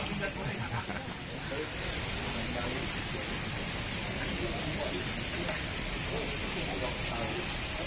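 Steady rain pattering on surfaces during an outdoor fishing session, a dense even hiss throughout with no breaks.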